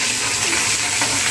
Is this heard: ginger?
yes